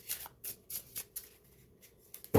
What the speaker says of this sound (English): I'm gonna shuffle this quite a bit, random as possible for our last one here.